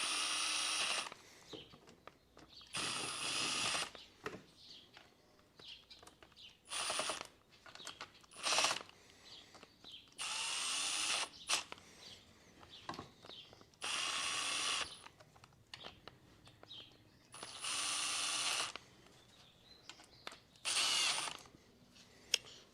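A ratchet snugs up bolts in a cross pattern during a top-end rebuild of a Honda TRX500FA Foreman Rubicon ATV, heard as repeated bursts of rapid clicking separated by brief pauses and quiet handling noise.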